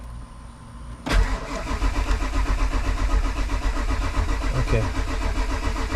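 A Ford 7.3 diesel engine with suspected high-pressure oil pump trouble turns over loudly and close, with a steady rhythmic churn that runs without a break after a sudden start. A brief word is spoken near the start.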